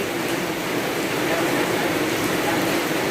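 Rain falls as a steady, dense hiss of broadband noise that stays even and unbroken throughout, with no distinct drops or other sounds standing out.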